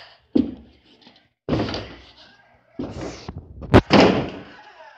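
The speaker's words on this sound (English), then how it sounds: "I didn't hear that because I was kicking down doors." Doors being kicked during a hide-and-seek game indoors: three or four heavy, booming thuds and slams spaced over a few seconds, loud and close, each with a brief rattling decay.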